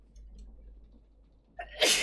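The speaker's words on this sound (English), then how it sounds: "I need to sneeze." A single sharp, close sneeze erupts near the end after a quiet stretch of faint background hum.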